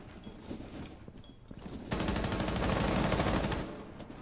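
Rapid automatic gunfire in Rainbow Six Siege, a sustained loud burst of rattling shots lasting a couple of seconds after quieter scattered sounds.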